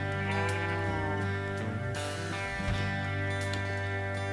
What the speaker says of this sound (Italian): la pecora qui ha deciso di non voler.